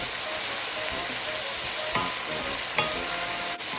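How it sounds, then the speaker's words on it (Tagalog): Potato and sweet potato fry in a pan with a steady, dense sizzle that fills the whole stretch, broken by a few brief clinks and scrapes of stirring. "Let the potato and sweet potato cook"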